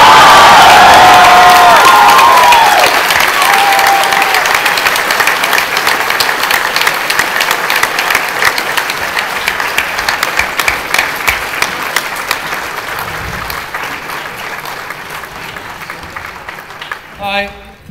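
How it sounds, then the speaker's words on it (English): A big audience at a New York Comic Con 2012 Batman panel bursts into loud applause and cheering with whistles, honoring the Batman Incorporated creative team, then slowly thins out and fades over many seconds. "So please give another big round of applause to the creative team behind Batman Incorporated"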